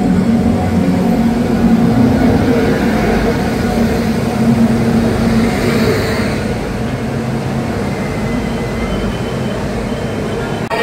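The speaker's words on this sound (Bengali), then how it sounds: "ট্রেন আমাদের ঢুকছে 13115 শিয়ালদা জলপাইগুড়ি রোড হামসফর এক্সপ্রেস নৈহাটির 3 নম্বর প্ল্যাটফর্মে" The 13115 Sealdah–Jalpaiguri Road Humsafar Express pulls into platform 3 at Naihati station at night, giving a loud, continuous rolling rumble of wheels and carriages that stays steady throughout.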